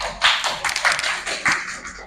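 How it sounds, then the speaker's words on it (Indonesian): Several people clap in a classroom, a short burst of uneven hand claps close by that lasts about two seconds without any talk. "Oke, tepuk tangan kelompok 3."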